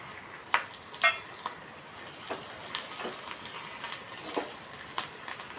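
Onions fry in a pan with a quiet, continuous sizzle. Scattered soft clicks and scrapes come from stirring.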